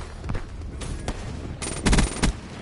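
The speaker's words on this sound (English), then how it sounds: "my M8 shot is on point" M8 rifle fire in a video game Search and Destroy match, with a few sharp bursts of shots, the loudest cluster near the end, close and punchy over a low game background.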